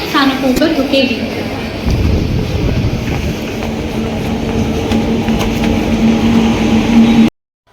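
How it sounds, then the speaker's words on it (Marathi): A train pulls into a station platform, its rumble and rolling rail noise filling the scene while a long steady tone sustains, with a voice talking over it throughout before the sound cuts off abruptly. "ट्रेन तर बघा आलेली"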